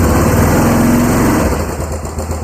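The engine of a Yamaha Big Bear ATV runs in first gear during a clutch test, a loud, steady, close mechanical drone that holds even throughout with no voices over it.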